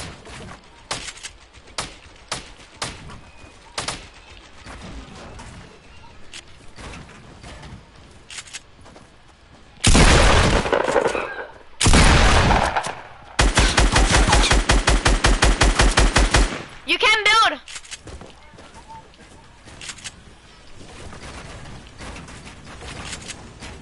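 Gunfire in a console shooter video game: scattered short shots at first, then loud bursts around the middle including a long rapid automatic volley, with fainter clicks and game effects between, and no talk.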